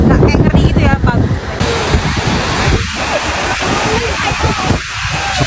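Ocean surf on a beach in Bali, a steady broadband wash of waves with wind buffeting the microphone, continuous and fairly loud throughout, with occasional voices faintly audible underneath.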